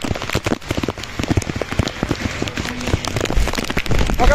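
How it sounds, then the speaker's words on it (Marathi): Heavy monsoon rain pours down around Lonavala, a dense steady hiss of drops striking surfaces with scattered louder splats, close and continuous for several seconds. "जरा खूपच पाऊस चालू आहे"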